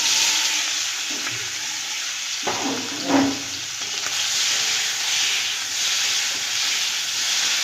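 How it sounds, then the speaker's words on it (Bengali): Magur catfish rubbed with salt and turmeric fries in hot oil in a kadai, a steady bright hiss and sizzle throughout with a short burst of spattering and stirring partway through, close and without speech. "এবার আমি নুন হলুদ মাখিয়ে রাখা মাছটা দিয়ে ভেজে নেব"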